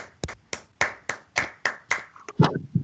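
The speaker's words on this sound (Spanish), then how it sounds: "Aplauso para Lucía" Students in a class clapping for a classmate, a small group giving about eight sharp, evenly spaced claps in unison, close and distinct, ending in a brief jumble of noise.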